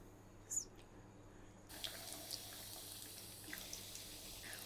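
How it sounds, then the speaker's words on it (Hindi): Donut dough slides into hot frying oil for homemade bakery-style donuts, and after a quiet start a sudden steady sizzle breaks out and keeps up as a continuous bubbling hiss. "अब हम इसमें डोनट डालेंगे।"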